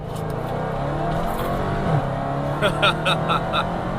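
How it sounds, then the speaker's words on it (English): A 707-horsepower Dodge Challenger Hellcat accelerates hard in second gear, a loud, close, rising engine roar with sharp bursts near the end. "So let's flick it down into second gear, mash the pedal."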